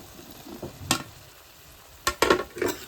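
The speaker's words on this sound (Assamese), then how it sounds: "দেখিছে এয়া অকণমান সময় এনেকৈ লৰাই দিম" Fried jackfruit pieces are stirred into masala in a pan, producing a few scraping, sizzling strokes in two bursts separated by a quieter pause, close and moderately loud.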